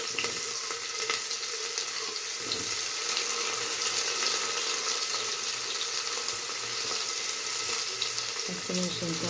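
Onions sizzling as they are tipped into hot oil with popping mustard seeds, a steady close frying hiss with faint clinks near the end, for a sprouted fenugreek rice dish.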